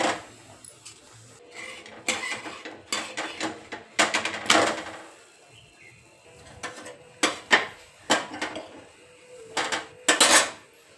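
Bajra bhakri flatbread being made by hand, with sharp, irregular slaps, pats and clatters of dough and utensils coming in bursts, close and fairly loud, with no talk.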